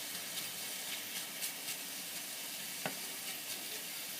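Chicken teriyaki cooking in a pan gives a steady, soft sizzle with faint scraping and a sharp click near the end, heard alone with no voices.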